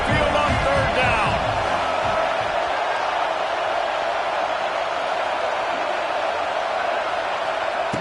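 Alabama Crimson Tide football crowd in a stadium on third down, a broad sustained roar filling the whole stretch, loud and steady throughout with some brief voice near the start.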